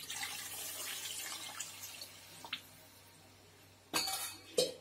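Water pours into a pot while chicken biryani is cooked, a hissing, splashing stream at first, then a pause and two sharper bursts of pouring with faint metallic clinks, close and with no speech.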